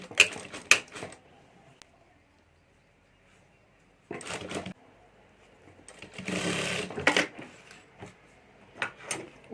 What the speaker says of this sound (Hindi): मोड़कर ऊपर सिलाई कर देनी है